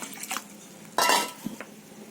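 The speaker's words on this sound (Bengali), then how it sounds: "কড়াইটা আমি বসিয়ে দিলাম কড়াইতে জল দিয়ে দিচ্ছি" A wok is set down on a lit stove with a single loud metallic clank, amid faint kitchen clatter and light knocks; the water pouring in afterwards is not clearly distinct.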